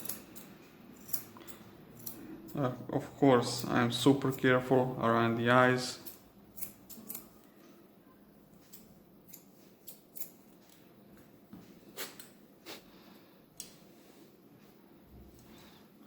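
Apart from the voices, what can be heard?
curved grooming scissors trimming a Bichon's head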